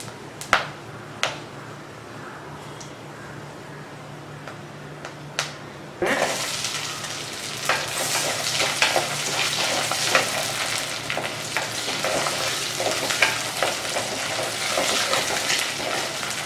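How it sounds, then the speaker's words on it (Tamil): Lots of garlic and small onions drop into hot oil in a pan for Tamil garlic kulambu. A loud, dense sizzle bursts in after a quiet stretch with a few clicks and continues steadily, close up. "இது கொஞ்சம் நல்லா வதங்கட்டும்."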